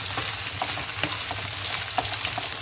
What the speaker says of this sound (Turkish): Şimdi sarımsaklarımı şöyle atıyorum. Onlarla da biraz şöyle kavuracağım.